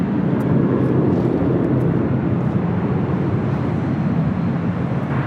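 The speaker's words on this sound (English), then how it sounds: "I'm a Breeze Airbus A220-300 heading to 25 right there on the south side" A Breeze Airbus A220-300 airliner moving near the south runways of a large airport gives off a continuous low jet rumble, loud and steady with no talk over it.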